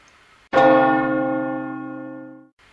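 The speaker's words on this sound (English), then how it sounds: "The bell rang." A single bell strikes once, loud and clear, its rich ringing tone sustaining and slowly fading for about two seconds before cutting off.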